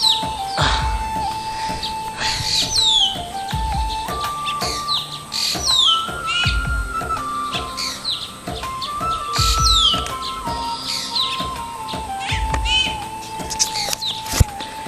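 Baya weaver birds around a colony of hanging nests, their bright chirps and twittering calls repeating in quick bursts over a steady outdoor background, with no voices.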